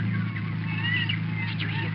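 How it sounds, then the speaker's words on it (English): A radio drama sound effect of seagulls crying over the sea: high, wavering gull calls drift over a steady low engine-like drone, sounding somewhat distant and mixed into an old broadcast recording. "Oh, no, it's only the gulls, Richard."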